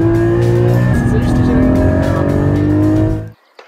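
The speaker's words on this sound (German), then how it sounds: "Im Hintergrund habe ich gerade schon einen Boxer Sechszylinder gehört und da ist er auch schon." A boxer six-cylinder Porsche GT4 engine runs steadily with a deep, harmonic drone at close range, then cuts off abruptly near the end, leaving brief quiet.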